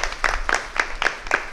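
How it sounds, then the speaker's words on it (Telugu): A church congregation clapping together at a Telugu prayer service, a steady run of rhythmic hand claps, loud and close, with a low hum beneath. "చప్పట్లు కొడదామా ప్రియులకు దేవుని బిడ్డలారా దేవునికి."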